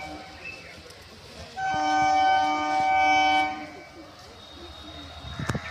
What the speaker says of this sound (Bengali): আওয়াজ পেয়েছো নিশ্চয়ই, এদের গাড়ি ঢুকছে।